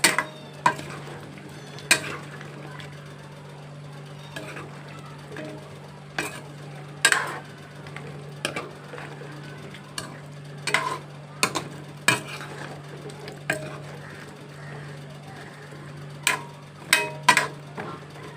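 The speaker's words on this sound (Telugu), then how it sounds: "కొంచెం సేపు వేగనండి చూడండి ఫ్రెండ్స్ ములక్కాళ్ళు" Drumstick pods fry in oil in a pan for pickle, with a steady low sizzle under sharp, intermittent scrapes and clacks of stirring at irregular intervals, and no talking.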